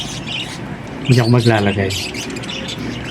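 Pet parakeets chirp and squawk while eating seeds, short bright calls scattered through the clip with someone talking over them.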